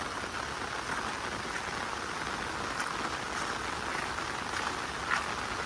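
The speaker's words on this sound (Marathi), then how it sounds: "खूप जास्त प्रमाणात पाऊस पडतोय." Heavy monsoon rain pours down steadily in Konkan, a dense, continuous hiss of drops on surfaces from start to finish, with no voices.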